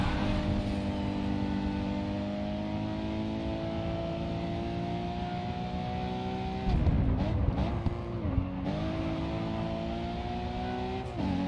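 Racing car engines in the Grid 2 video game drone at high revs, steady and loud, then drop and climb again through gear changes, with a brief burst of tire noise midway.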